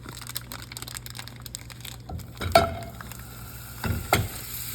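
Two sticks of butter melting in a pan on a stovetop for toffee, a soft low sizzle with a few louder scraping and crackling moments as they move in the pan, close with no talk.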